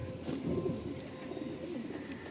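A Madrasi pigeon coos close by, a soft low rolling murmur that runs steadily with no pauses and no talking.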